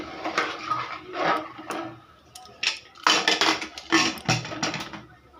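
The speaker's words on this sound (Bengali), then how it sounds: "ঢাকনা দিয়ে দিলাম।" A metal lid is fitted onto a pressure cooker holding mutton curry, giving a series of close, bright clanks, scrapes and clicks in uneven bursts, louder toward the end, with no talking.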